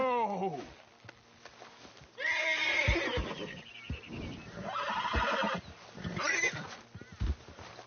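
A horse whinnies loudly several times in a PS4 video game, with hooves clopping and thudding in between; faint voices are mixed in.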